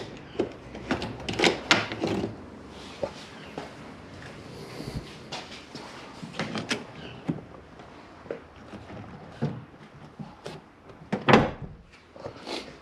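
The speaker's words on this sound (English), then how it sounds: "Let's try and keep this out of the way while I close the door." Knocks, clunks and handling noises come from working around the door of a Mitsubishi Evo X during a mirror install, with several sharp thuds as the car door is moved and shut nearby.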